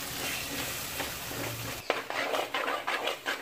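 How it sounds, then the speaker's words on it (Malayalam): Thick masala paste for a Kerala sardine curry scraping and stirring in a hot pan, a continuous close sizzle with irregular spoon strokes, louder and more broken in the second half. "അരപ്പ് ഞാൻ നന്നായിട്ട് വഴറ്റി കൊടുക്കുകയാണ്"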